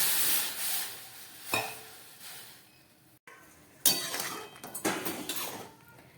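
Soybeans simmer in water in a wok with a soft bubbling hiss, punctuated by several sharp clinks and scrapes of a utensil against the metal.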